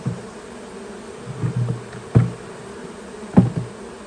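A late-season honeybee swarm near a hive gives a low, wavering buzz close by, with a few louder bursts as single bees fly past and two dull knocks.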